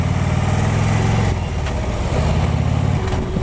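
A motorcycle engine runs close by as the rider slips the clutch through the friction zone at slow speed, a steady rumbling drone that sags and recovers in pitch with no talking over it.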